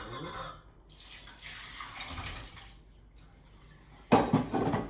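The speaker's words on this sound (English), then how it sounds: "So here I already have some potatoes cooked, and they're immersed in water, so I'm going to start draining them" Water pours and splashes into a sink as it drains off cooked potatoes, with a louder rush near the end and faint clatter of a pot.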